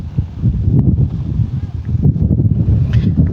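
Strong wind on an island coast buffets the microphone in a steady, loud roar that continues without a break.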